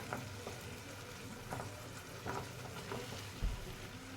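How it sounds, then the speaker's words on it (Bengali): Tomatoes with spices are stirred in a frying pan, giving a quiet, continuous sizzle with soft periodic scrapes of the spoon and a brief knock near the end. "টমেটো ভালো করে নাড়িয়ে নেব"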